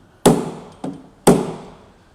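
Knockdown tool tapping a high spot on a car dent during paintless dent repair: three sharp metallic taps, close and loud, the middle one softer, each ringing briefly before fading.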